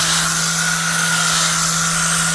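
A high-speed sander whines steadily and loudly as it shapes a bullnose edge on stone tile, a constant grinding hiss with no pauses and no talk.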